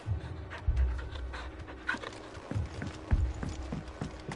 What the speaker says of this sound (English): Mad dogs. A lot of them.